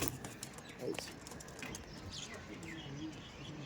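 Punjabi standing pigeons coo softly at a pigeon seller's loft, low throaty calls drifting over a steady background hiss, with faint chirps and a little distant noise.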